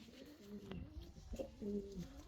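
Fancy pigeons cooing close by in a loft, several soft, low, throaty coos in quick succession over a quiet background.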